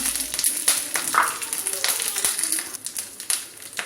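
Red chillies, curry leaves and chana dal crackle and sizzle in hot oil, a dense run of sharp pops and spits over a steady frying hiss, with no voices.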